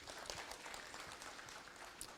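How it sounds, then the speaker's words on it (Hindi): Audience at a farewell ceremony for a departing official gives a welcoming round of clapping, faint and distant, with a dense, even patter throughout. "जोरदार तालियों से स्वागत करें आप"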